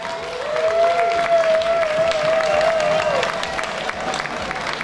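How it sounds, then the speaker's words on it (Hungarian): An audience at a choir and band concert in a Hungarian hall applauds, with dense, sustained clapping filling the space while a voice briefly calls out over it. "Kérnék szépen egy nagy tapsot"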